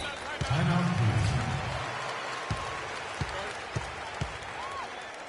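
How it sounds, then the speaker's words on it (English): Crowd noise and applause from an arena in a basketball video game fill the background, with a few sharp ball bounces thudding at intervals. "Fans, you gotta get loud. Come on, let's have a round of applause for the James checked in for Cleveland."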